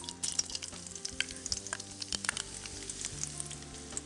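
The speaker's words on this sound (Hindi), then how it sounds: "इसमें हम डाल देते हैं डाइस्ड अनियंस।" Crackling, popping sizzle of diced onions frying in olive oil, with sharp irregular spits over a soft steady hiss.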